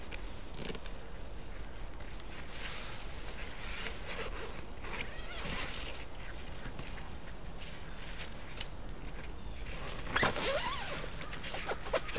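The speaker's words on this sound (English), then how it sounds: "And just zip it up." A zipper on a Crazy Crib hammock with a tarp is pulled shut with a long, steady rasping run that grows a little louder near the end.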